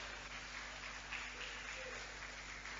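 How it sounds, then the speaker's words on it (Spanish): A church congregation applauds faintly during a Sunday sermon, a soft steady wash of clapping over a low hum. "Un aplauso para nuestra hermana"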